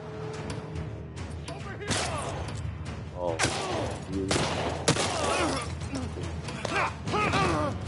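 Gunfire in The Last of Us Part II, a run of sharp shots and bursts over steady background game sound, with some voice-like tonal sounds mixed in.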